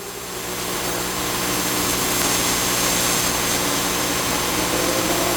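Can-Am midget race cars at Flamboro Speedway roar in a steady, loud, continuous engine drone as the field restarts under green, the sound thick and sustained throughout with no voices.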